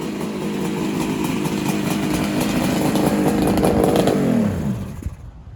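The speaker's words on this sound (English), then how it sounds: "sounds like the Kawie's running a little bit better now" A Kawasaki motorcycle engine idles steadily with a rough, rattling tone, then cuts out near the end, leaving a brief quiet.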